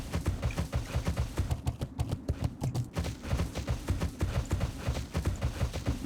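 Horse hooves clip-clop in a fast, steady rhythm while riding in the video game Ominus, close and continuous with no talking.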